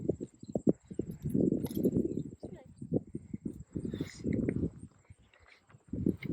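Horse hooves walking slowly on a barn floor, soft irregular thuds heard near and fairly quiet beneath steady talking.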